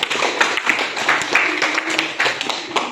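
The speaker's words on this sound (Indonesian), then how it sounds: "Luar biasa, tepuk tangan buat semuanya." Classroom of students clapping after a role-play performance, a quick, uneven patter of nearby hand claps with a few louder individual claps and faint voices mixed in.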